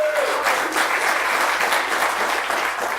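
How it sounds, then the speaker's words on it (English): A crowd applauds for Bela Lugosi during a monster movie event, thick continuous clapping that holds at an even level from start to finish. "Can I get an applause again for Bela?"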